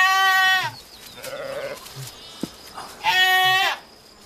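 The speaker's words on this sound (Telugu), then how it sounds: "భాస్కరా నా చాలా గొర్రె గుండు పై నుంచి కింద పడిపోయింది." Injured goat that fell from a rock, bleating loudly and close: two long, wavering cries separated by a quieter, rougher call and a brief knock.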